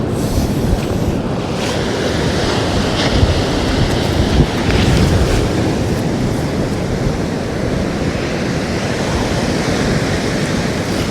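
Ocean surf breaking on a beach at North Donmouth, Aberdeen, a loud continuous wash of waves with wind buffeting the microphone throughout, no talk.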